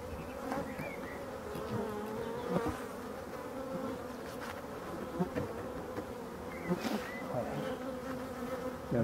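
Honey bees swarm around an opened hive being fed syrup, a dense continuous buzzing close to the microphone with individual bees flying past.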